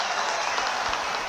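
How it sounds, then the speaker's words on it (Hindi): Crowd at a political rally clapping, a continuous dense patter of many hands at moderate distance, steady throughout. "दोनों के लिए जोर से ताली बजाइए जरा"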